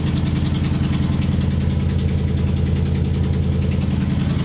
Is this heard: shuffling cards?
no